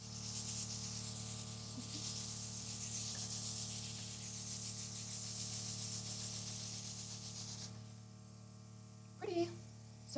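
Steady airbrush hiss sprays makeup across the face and near the hairline, continuous and close for most of the stretch before cutting off, followed by a couple of brief handling sounds.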